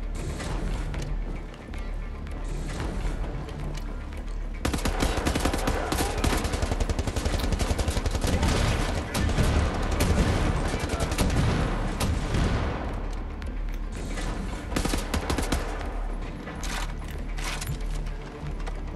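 Sustained AK rifle fire in the video game Wolfenstein: The New Order: dense, loud, rapid shots with mechanical clatter that run through nearly the whole stretch, swelling and easing briefly, with no talk.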